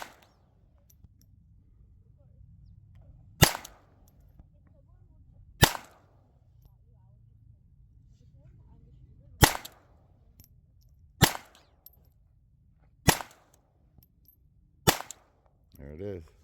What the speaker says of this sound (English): That's the Browning pistol. The Buckmark Camper pistol,